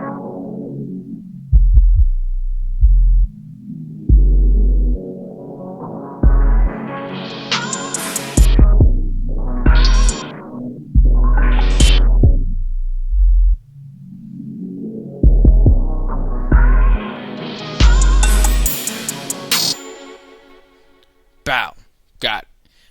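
An FL Studio beat loops with a thumping low kick while a filter mapped to a MIDI knob sweeps up and down. The sound opens into bright rising-and-falling whooshes and then closes back to a muffled thud, loud and up front.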